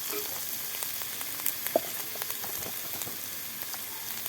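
Okra frying in a pan with spices and turmeric powder being added, a soft continuous sizzle with small scattered crackles and pops at close range.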